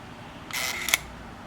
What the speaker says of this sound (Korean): 원래는 필름이 감기는 소리가 나야 되는데 금방 찰칵만 하고 필름 감기는 소리가 안 났죠